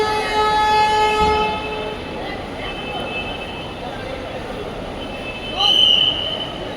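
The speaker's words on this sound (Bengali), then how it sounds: "হাওড়া স্টেশনে এসে এখন দাঁড়িয়ে আছি।" Trains at Howrah railway station in Kolkata: steel wheels squeal in sustained high tones, a horn sounds, and background voices mix into the busy, echoing rumble of the platforms.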